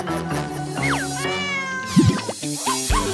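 A small kitten meows several times in high, rising and falling calls, close and clear against a cartoon-style background.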